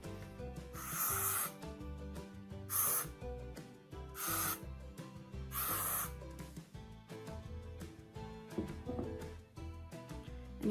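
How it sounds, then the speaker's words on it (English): Hairspray is sprayed onto the front hairline in several short aerosol bursts, four distinct hissing puffs spaced about every one to two seconds over quiet background music. "I'm just gonna spray my front hairline."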